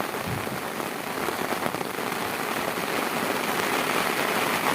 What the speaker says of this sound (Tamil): மழை அடித்து ஊற்றுது.